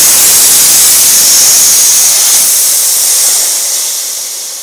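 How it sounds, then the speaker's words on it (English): Compressed air blasts out of the drain valve of a Harbor Freight Fortress Ultra Quiet 2-gallon 135 PSI compressor, a loud, close, steady hiss that tapers off slightly as the tank empties. "to drain it, all you got to do is just flip this valve"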